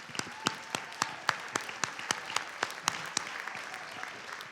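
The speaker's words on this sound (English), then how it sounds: "So give them another round of applause." Audience at a winter carnival queen's pageant gives a round of applause, with distinct, fairly sparse claps in a steady rhythm that sound moderately distant in the hall.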